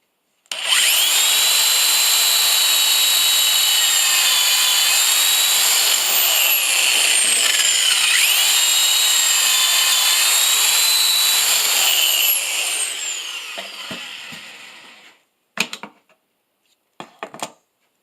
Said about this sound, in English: using the Kreg jig to drill pocket holes on the ends of the tabletop